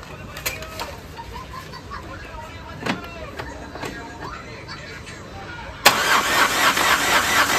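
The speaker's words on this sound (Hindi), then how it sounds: "एक सेल्फ मारा एक सेल्फ में ही स्टार्ट हो गया इंजन" A Renault Kwid's MPFI petrol engine, freshly overhauled, cranks and catches near the end, settling into a steady running hum after several faint clicks and knocks.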